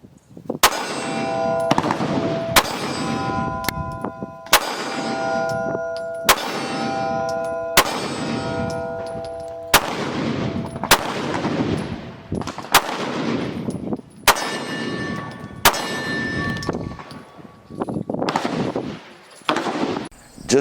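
Smith & Wesson M&P Shield Plus Optics Ready pistol fired at small steel poppers about 12 to 15 yards away, a string of loud, sharp shots at a steady pace, several followed by ringing metallic pings from hits.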